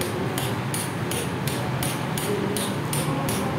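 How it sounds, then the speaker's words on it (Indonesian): Steady hammer blows tap a socket that drives a seal into a Suzuki Karimun transmission's gear shift shaft housing, about eight evenly spaced metallic strikes, close and sharp over a constant background hiss. "ini kita lapisin kunci sok dan kita palu supaya sealnya ini bisa ke dalam begitu ya"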